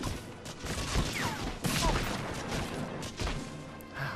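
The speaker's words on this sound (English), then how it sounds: "They fire so fast. They're only bolt-action rifles, guys." Rapid rifle fire and impacts in the World War II shooter Medal of Honor: Frontline, repeated bursts of gunshots and crashes layered over busy game noise, with a few louder cracks standing out.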